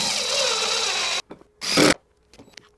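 A power drill drives 1¼-inch pocket hole screws into a drawer-system bracket: one sustained whirring burst, then a brief second burst after a pause, with faint clicks in between, close and clear.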